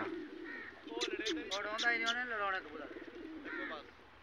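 Soft, rolling coos of competition pigeons in a pigeon-flying contest repeat in a steady pattern, with a faint voice and light ambient noise behind them.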